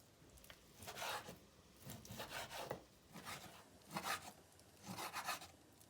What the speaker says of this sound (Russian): Теперь мелко нарезаю мякоть бедрышек.